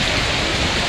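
Heavy rain with hail falls in Kurseong, Darjeeling, a dense, continuous wash of noise close by, with no talking.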